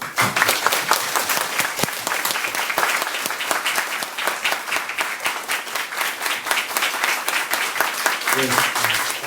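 A concert audience in Korea applauds with dense, sustained clapping from many hands that holds steady and loud throughout, and a voice surfaces briefly near the end.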